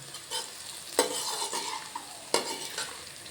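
Bitter gourd pieces fry in hot oil with onion, a busy close sizzle punctuated by two sharp utensil knocks and scraping stirs.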